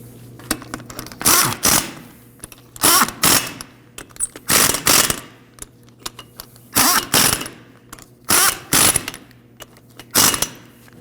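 Ratchet wrench clicking in repeated short bursts while brake hose fittings are snugged down on a 1993-2001 Subaru Impreza, each burst a quick run of close, loud mechanical clicks separated by brief pauses.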